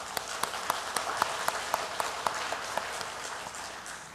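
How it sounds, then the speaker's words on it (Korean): A church congregation applauds, a dense, steady wash of many hands clapping with a few sharper claps standing out near by, rhythmic at times and continuing without talk. "네, 박수 한번 할까요?"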